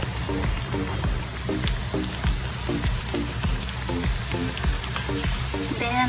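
Bananas frying in oil and melted sugar for banana cue, a steady dense sizzle with soft crackles and a few light stirring clicks throughout, close and moderately loud, with no one talking.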